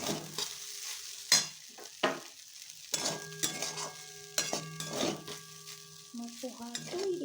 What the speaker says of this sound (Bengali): ধনে পাতাটা দিয়ে নেড়ে চেড়ে গ্যাসটা অফ করে দেবো